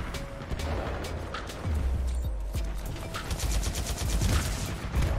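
Rapid gunfire in the first-person shooter Titanfall 2, loud bursts and automatic fire crackling throughout, with dense fusillades and sharp single shots layered over low rumbling game ambience.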